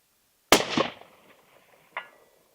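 Single sharp report from an old-fashioned Winchester Model 70 bolt-action rifle in .270, fired outdoors while hunting buck in wind, with a loud crack, a decaying tail, and a fainter echo about 1.5 seconds later.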